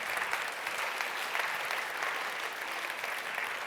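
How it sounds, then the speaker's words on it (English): Conference audience at a product strategy summit applauds to welcome a speaker on stage, continuous, even clapping from a crowd, moderately loud throughout. "A big applause, please."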